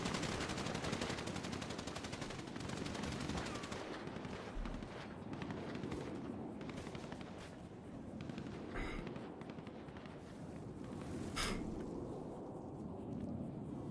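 Rapid bursts of automatic gunfire and scattered single shots crackle through a GTA shootout, dense and continuous, with sharper nearby reports standing out over a steady background of distant firing.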